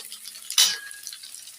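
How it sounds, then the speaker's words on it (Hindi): A sudden burst of sizzling as tempering spices hit hot oil in a pan, a sharp crackling hiss that fades into a steady, quieter fry. "ये देखिए मेरा तड़का लग रहा है"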